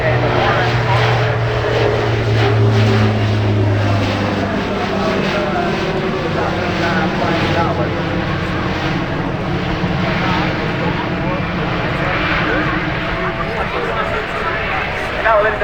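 An Alenia C-27J Spartan military transport plane maneuvers during an airshow display, its propeller engines droning loudly and steadily with a slowly shifting pitch, while an announcer speaks over the roar.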